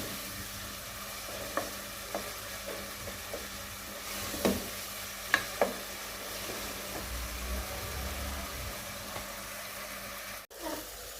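Minced meat (keema) frying in a pan for a matar keema dish, a soft continuous sizzle with occasional scrapes and taps of a spoon stirring, fairly faint and with no talk.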